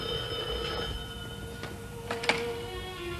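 A telephone rings indoors with a steady tonal ring, fairly faint and alone, with a few brief clicks near the end.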